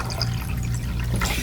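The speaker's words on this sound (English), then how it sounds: "So here I have a bowl, and I'm going to add some regular distilled water." Distilled water pouring into a bowl, giving a steady, close-up watery trickle that runs without a break and carries no speech.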